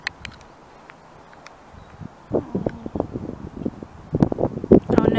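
Gusty wind buffets the microphone outdoors on a sunny, windy walk near water with ducks and swans, rumbling in uneven bursts that grow louder and more constant toward the end.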